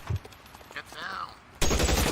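Gunfire in the L.A. Noire video game, a loud rapid burst of shots breaking in at the end after quiet background and faint game sounds.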